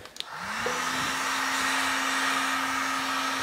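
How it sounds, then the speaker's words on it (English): A heat gun whirs up to a steady, close blowing hum with a sustained tone as it warms vinyl wrap on an ECD custom Can-Am Maverick X3, starting after a couple of light knocks. "Thank God for heat guns, eh?"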